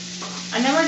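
Asparagus and peas with a spoonful of honey sizzle in a pot, and a spoon stirs them, the frying hiss swelling louder in the second half of a brief burst.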